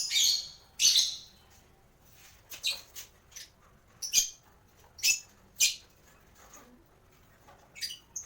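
A flock of lovebirds kept indoors gives sharp, high chirps in scattered bursts, some loud and close, others fainter, with short quiet gaps between calls.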